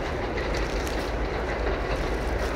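A train rumbles past close by at Poe Park in the Bronx on a snowy Saturday, a steady loud roar with rail clatter throughout and no voices.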